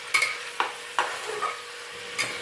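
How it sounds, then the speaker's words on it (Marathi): Peas and vegetables for pav bhaji being sautéed in a pan: several distinct spoon scrapes and knocks spaced irregularly over a soft, steady sizzle, close and moderately loud. "हे मटार पण ह्याच्यामध्येच घालूया पाच मिनिट ह्याला असेच परतून द्यायचे"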